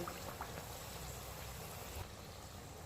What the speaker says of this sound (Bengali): তো এইভাবে আরও কিছুক্ষণ ভাজতে লাগবে